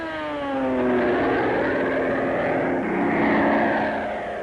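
World War II Japanese warplanes flying overhead, a loud droning roar of propeller engines that swells and fades as they pass, heard alone without talk.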